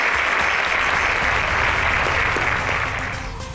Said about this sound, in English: A round of applause to Mark Henry, ladies and gentlemen.